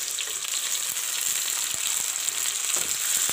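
Chopped tomatoes frying in a hot pan for pasta, a steady close sizzle and crackle running continuously with faint stirring, no voices.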